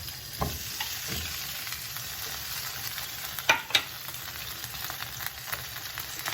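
Something broken up and stirred in a frying pan gives a steady low sizzle, with scattered soft scrapes and two crisp metallic clinks close together midway. No voices are heard.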